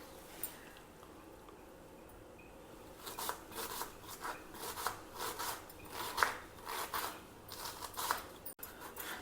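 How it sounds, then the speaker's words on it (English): A large onion is chopped on a board in a home kitchen, with a quick run of crisp knife taps and crunches after a quiet opening. Faint and close, with no talk. "peel and chop 1 large onion"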